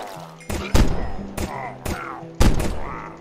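Gunfire in the Minecraft video game: several separate loud, sharp shots ring out at uneven intervals, each followed by a short decay over low background tones.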